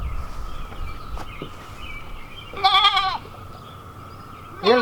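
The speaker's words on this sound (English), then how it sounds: "Come on, goaty goats." A single goat bleats clearly nearby, with another bleat starting at the end, over a quiet outdoor background.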